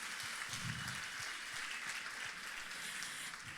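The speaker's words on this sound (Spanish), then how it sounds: "¿Por qué no le dan un fuerte aplauso a ellos que están por allá?" A church congregation claps in a soft, distant, hissing wash that stays fairly even throughout, quiet and diffuse like rain on a surface.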